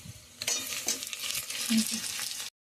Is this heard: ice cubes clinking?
no